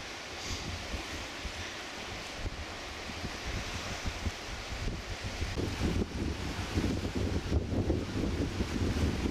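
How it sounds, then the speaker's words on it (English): Wind buffeting at a hot beach, a steady, fairly faint whoosh and rumble blended with a wash of surf, slowly building louder toward the end, with no voices. "Bit of a wind today, very pleasant because it's bloody hot."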